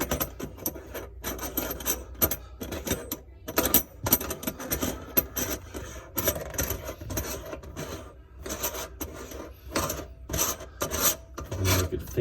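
Metal kitchen sink drain strainer flange being screwed in by hand over a rubber gasket and metal washer, a continuous close scraping, rasping rub with dense small clicks and ticks throughout, no talking.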